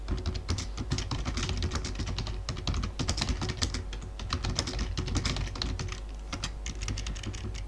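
Steady, brisk typing on a computer keyboard while writing code comments in the Unity engine, with close, crisp key clicks in an uneven rhythm and no talking.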